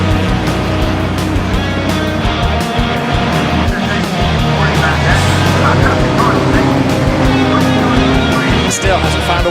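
Race cars battle closely on the Brands Hatch circuit during a TAG Racing season finale, engines roaring loud and continuous with shifting pitch as they pass, a commentator talking over the racket throughout.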